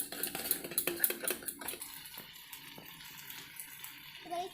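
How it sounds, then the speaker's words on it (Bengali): A spoon whisking sour yogurt with a little salt in a bowl for chicken curry, quick metallic scraping and clinking strokes close up, busy at first and then thinning to lighter taps. "আমি সামান্য পরিমাণে নুন দেব, দিয়ে টকটা ভালো করে আমি ফেটিয়ে নেব।"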